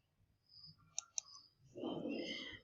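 Two sharp computer mouse clicks a fraction of a second apart while drafting a 2D plan in AutoCAD 2020, near and crisp, followed by a burst of louder broadband noise.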